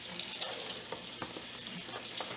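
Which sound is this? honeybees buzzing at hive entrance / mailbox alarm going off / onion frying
onion frying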